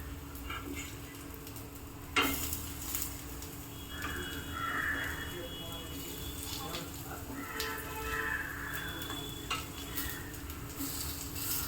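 Urad dal roti frying in a pan and being turned, with soft sizzling and scraping under a voice speaking throughout.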